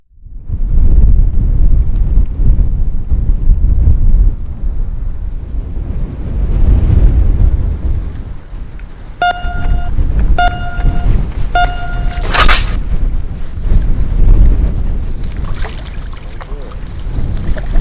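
Strong wind buffeting the microphone at a night fishing spot, a loud rumbling roar that rises and falls in gusts throughout, broken midway by a few short, bright electronic beeps.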